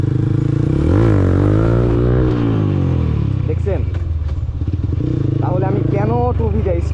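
A TVS Apache RTR 2V motorcycle revving hard for a wheelie, loud close engine sweeping up and down in pitch, then settling into a rough idle with blips, while someone talks over it.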